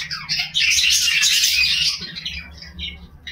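Pet birds in a freshly washed cage, one of them with a young chick, give a dense burst of high chirps and tweets that thins out toward the end over a low background hum.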